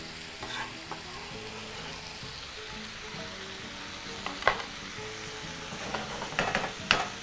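Ingredients hiss and sizzle in a hot pot of Kenyan liver stew while being stirred, a continuous crackling fry with a few louder scraping stirs near the end.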